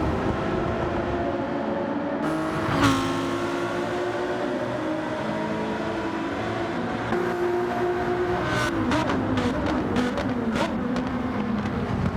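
Three race cars fight for second place in a sim racing league, their engines droning steadily with rising and falling pitch. Sharper revving and gear shifts break through near the end, and no voices are heard.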